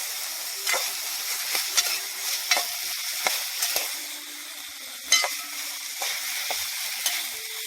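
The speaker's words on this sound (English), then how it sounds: "So we're just basically sauteing up a little bit" Vegetables sauté with a steady sizzle in a hot pan for Jamaican brown stew fish, with repeated scraping and stirring clicks from a utensil, close by.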